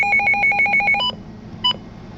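A Midland WR 100 weather radio alert sounds close and loud as a rapid run of about ten identical electronic beeps, followed by two longer tones and a single repeat after a short pause.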